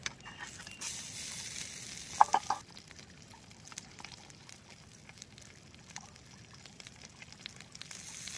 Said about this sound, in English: I want to be extra fancy, and I'm going to cook it on my stove.